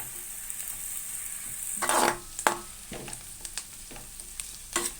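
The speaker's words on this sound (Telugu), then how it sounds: "ఇప్పుడు ఈ నూనెలో ఇవన్నీ బాగా మగ్గబెట్టుకోవాలండి" Onion pieces frying in oil for a prawn and drumstick curry, a steady soft sizzle broken by several sharp scrapes and clinks of a spoon stirring the pan, with no talk.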